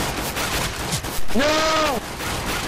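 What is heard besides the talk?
players shooting each other in Counter-Strike: GO video game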